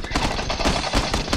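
Rapid automatic gunfire from a battle royale shooter game, PlayerUnknown's Battlegrounds, with dense bursts of shots crackling loudly and continuously through the short moment.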